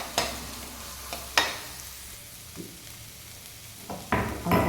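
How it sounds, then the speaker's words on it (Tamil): Finely chopped onions with cinnamon, cloves and cardamom sauté in hot oil, a soft constant sizzle punctuated by several sharp spoon scrapes and stirring bursts, the loudest near the end. "பெரிய வெங்காயம் குட்டி குட்டியாக கட் பண்ணி 2 அதை ஆட் பண்ணிவிட்டு நல்லா டிரான்ஸ்பரண்ட் ஆகிற வரைக்கும் வதக்கிக்கோங்க"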